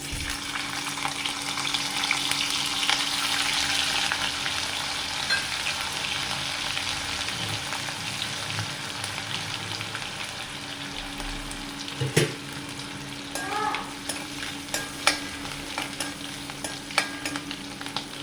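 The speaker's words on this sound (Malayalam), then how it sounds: "ചെമ്മീൻ നമുക്ക് അതിലിട്ട് വറുത്തെടുക്കാം" Large prawns fry in hot coconut oil with a loud, constant crackling sizzle up close, broken by a few sharp pops and utensil knocks toward the end.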